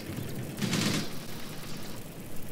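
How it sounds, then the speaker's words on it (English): Gunfire from an APC in the Graviteam Tactics war game, a short burst of fire heard at moderate distance, followed by low ambient rumble. "it's good to see that our APC is actually managing to get some decent shots here"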